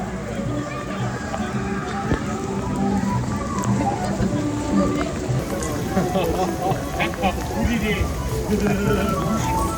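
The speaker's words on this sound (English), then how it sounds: "it was really raining really hard" Heavy rain pours down at Parc Astérix, a dense, steady hiss of drops on surfaces lasting throughout, with crowd chatter and voices in the background.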